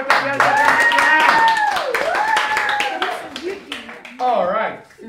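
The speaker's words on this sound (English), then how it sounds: "clap your hands, clap your hands, clap your hands" Hands clap along at a child's birthday party, a string of sharp claps mixed with excited singing and children's voices that carry over and around them.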